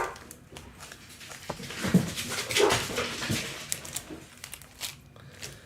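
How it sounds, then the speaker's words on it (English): An excited dog indoors barks and whimpers in short bursts, with yips and whines mixed with crinkling and rustling nearby, fairly close. "the dog's going crazy"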